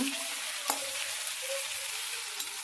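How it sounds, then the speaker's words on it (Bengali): Potatoes and onions sizzle steadily in a pan on a home stove, with a few sharp scrape-and-clack stirring strokes standing out over the soft, even frying. "আলুগুলো ভাজা হচ্ছে"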